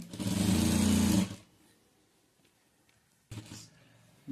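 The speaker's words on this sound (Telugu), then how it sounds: "ఇలాగే ఈ సైడ్ మొత్తం స్టిచ్చింగ్ చేసేసుకోవాలి" Sewing machine stitching the side seam of palazzo pants runs in one loud, close burst of about a second, then stops, followed by a quieter, shorter restart near the end.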